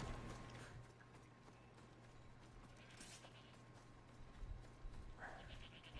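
Horse hooves clip-clopping in a video game, faint and steady under a low background hum. There are occasional creaks, and no speech is heard.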